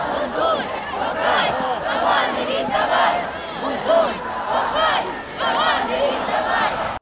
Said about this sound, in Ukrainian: Учасники вигукують гасла про рівність і права